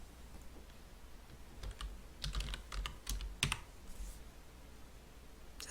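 Bursts of quick clicking keystrokes from a computer keyboard, faint and close, in short irregular runs with pauses between.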